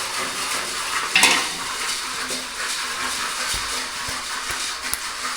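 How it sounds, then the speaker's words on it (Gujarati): Puffed rice (mamra) tipped into a hot pan and stirred, with a steady dry hiss and rustle throughout, a louder pour near the start and a few light scrapes and knocks of the spoon. "હવે આપણે મમરા નાખી દઈશું અંદર."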